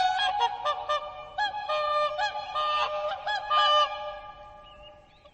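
Swans calling in a series of loud, close honking notes, several overlapping bursts with brief pauses, with no other sounds.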